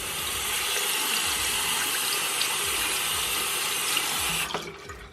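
An ATMOKO rechargeable oral water flosser with a splash-proof head sprays water in a steady hissing stream over a sink for several seconds, close and loud, then cuts off abruptly near the end.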